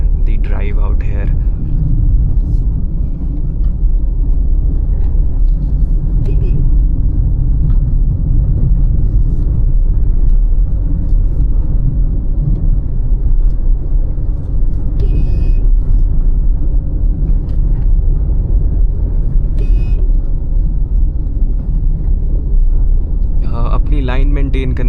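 Hyundai i20 Elite with a manual gearbox climbing a narrow forest road near Shimla: a steady, loud engine and road rumble runs throughout from inside the car, with a voice talking briefly at moments.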